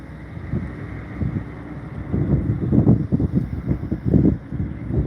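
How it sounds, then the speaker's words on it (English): Strong outdoor wind buffeting the microphone in loud, low, irregular gusts that swell and fade, rising toward the middle, with no speech. "Boy, the wind is blowing pretty good."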